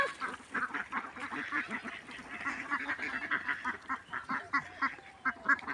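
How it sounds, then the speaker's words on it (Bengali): A flock of ducks at a village pond quacks in rapid, overlapping bursts, eager to eat fish, a steady chattering chorus at moderate distance with no speech. "হাঁসগুলো তো মাছ খাওয়ার জন্য পাগল হয়ে গেছে"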